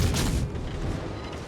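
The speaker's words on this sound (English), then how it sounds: "The DDs are shooting him now" Destroyers' guns firing at a ship in World of Warships, heard as a dense, continuous rumble of booming gunfire that stays loud for the whole moment, with a heavier burst at the start.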